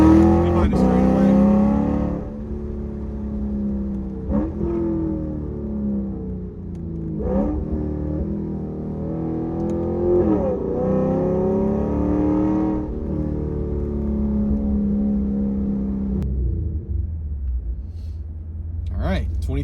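A 2015 Lexus RC F V8 launches in a street drag race with no prep, engine screaming up through the revs in repeated rising sweeps broken by gear shifts, loud and close before fading away at the end.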